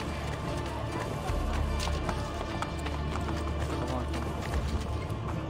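Horses' hooves clip-clop in Assassin's Creed Brotherhood, a steady running beat under game ambience with a low rumble throughout.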